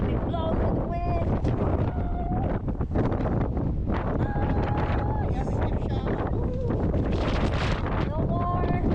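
Strong wind buffets the microphone on the Newfoundland coast, a loud constant roar with gusty rumbling, while people talk underneath it.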